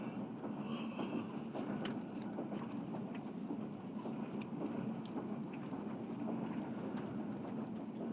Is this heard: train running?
yes